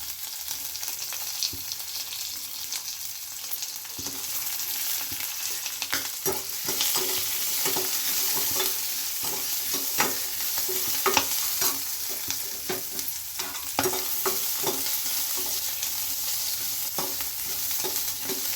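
Onion frying and being stirred in a pan with unpeeled garlic, for a Mandya-style hasi avarekalu bassaru sambar; a steady close sizzle runs throughout, broken by frequent scraping stir strokes, with no talking.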